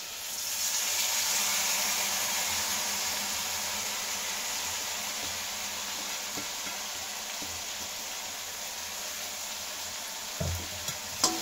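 Rice with masala frying for veg biryani made with non-basmati rice, a steady broadband sizzle that holds for the whole stretch, with a few soft stirring scrapes near the end and no talk.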